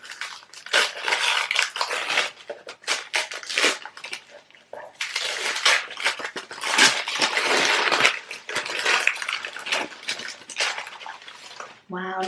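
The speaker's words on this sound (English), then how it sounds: "let's unwrap it." A customer's package is unwrapped at an Etsy seller's studio: dense, close crinkling and rustling of wrapping, with bursts of tearing and crushing that carry on almost without pause.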